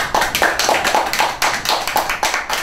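Scattered, rhythmic clapping at a school graduation awards ceremony, distinct individual claps in a steady pulse from a modest crowd, close and fairly clear.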